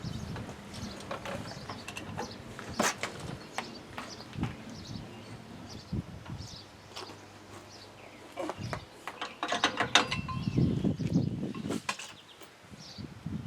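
Tightening the outer rear hub nut on an M925A1 military truck with a wrench, heard as repeated close ratcheting clicks and metallic clanks in irregular bursts, with no speech.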